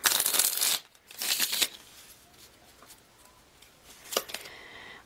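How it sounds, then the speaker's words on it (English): A deck of tarot cards is riffled and shuffled in two loud bursts, then softer handling and a final quick riffle, close and with no talk. "One more shuffle"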